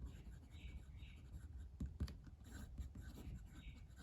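A fine number 8 steel fountain pen nib on a Jinhao pen writes on paper in blue ink, giving soft, close scratchy strokes in short bursts with a few light taps, quiet and otherwise alone.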